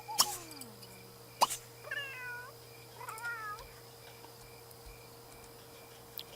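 Cats meow in The Sims 3, two short clusters of clear, wavering meows in the first half over a steady ambient game hum, with sharp clicks before and a quiet stretch after.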